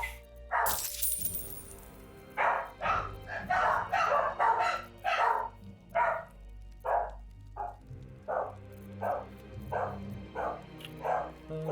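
A pack of dogs barks repeatedly in the fantasy role-playing game Baldur's Gate 3, sharp overlapping barks and yips coming in a rapid irregular volley, loud and fairly close, then thinning into spaced single barks.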